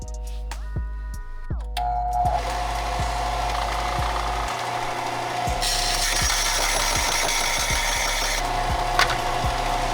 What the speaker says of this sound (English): I'm gonna go ahead and I'm gonna take the belt sander to this